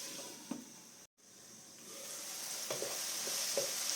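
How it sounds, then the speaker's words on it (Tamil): Tomatoes softening in a pan for a Tamil-style soya chunk curry give a steady low sizzle and hiss, with a few soft stirring clinks and a brief break midway. "தக்காளி பழம் வதங்கி கொண்டிருக்கிறது"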